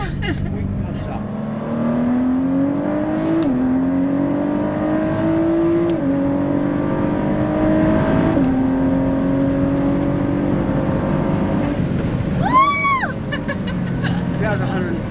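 Sports car accelerating hard on a race track near 140 mph, a loud steady engine whine rising through several gear shifts heard from inside the cabin, with a short squeal near the end.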